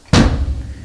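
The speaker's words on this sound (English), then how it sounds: "help the bass drum have a little bit more of a thud to it" A single deep, punchy kick drum thud from a Tama Cocktail Jam kit hits sharply and rings briefly with a low body before fading.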